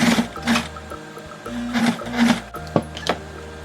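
Elastic is sewn into a headband on a sewing machine in a few short whirring bursts with brief pauses and small mechanical clicks between them, close and moderately loud.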